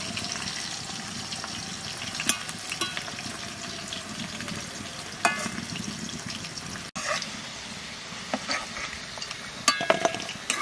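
Potatoes frying in a pan for a potato and pointed gourd vegetable dish, a steady close sizzle with occasional stirring scrapes and clinks throughout, no talking.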